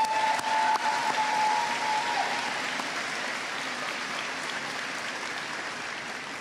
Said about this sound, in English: can we give the loudest round of applause to all these fabulous teachers?